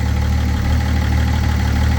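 A 3-litre BMW M57N single-turbo diesel from a 2004 BMW, fitted into a 1983 Ford F150, idles loudly and steadily with a deep, even rumble and a pulsing low throb.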